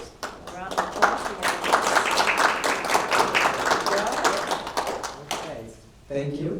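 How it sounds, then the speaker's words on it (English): A school audience at a student-of-the-month presentation gives a dense round of applause, close and lively, that swells and then fades out before a voice speaks at the end. "Round of applause."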